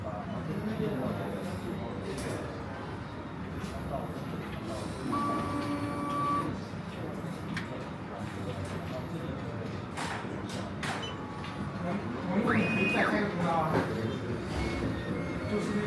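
Laser cutting machine running after start is pressed, a steady mechanical hum and whir with occasional beeps and motor tones, heard under ongoing conversation.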